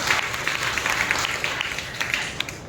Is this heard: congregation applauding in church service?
yes